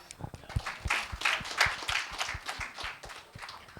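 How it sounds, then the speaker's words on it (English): A small group at an educators' meet in a hotel gives brief, sparse clapping. Individual claps are distinct and irregular, with a few murmuring voices underneath. "Let's clap."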